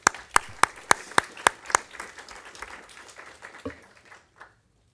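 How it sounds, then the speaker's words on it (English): A burst of applause at a United States-China-European Union product safety summit, with distinct loud claps at first, thinning out and fading to silence within a few seconds. "I'd like to offer them a round of applause"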